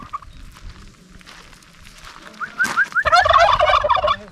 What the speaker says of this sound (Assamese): কি চৰাই বুলি কৈছিলে এইকেইটা? টাৰ্কি।